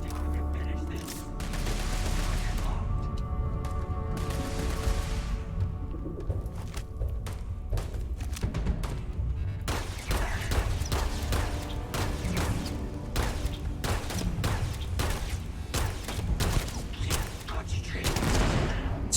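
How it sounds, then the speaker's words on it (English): Rapid strafing gunfire from the video game Starfield in a dim combat area, bursts of shots and heavy thuds rattling continuously at close range, with game voices talking over the firefight. "Strafing!"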